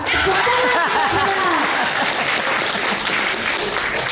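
An audience at a children's comedy performance in a village community hall applauds loudly and continuously, with a dense wash of clapping mixed with scattered voices and light laughter throughout.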